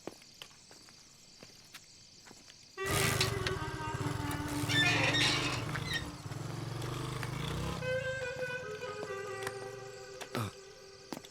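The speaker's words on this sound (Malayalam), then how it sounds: "ബൈക്ക് ഞാനൊന്ന് എടുക്കുവാണേ" A motorcycle engine suddenly fires up close by, revving loudly and then settling into a steady, throbbing run that continues to the end without fading far away.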